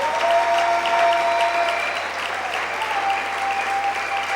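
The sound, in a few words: congregation applauding in church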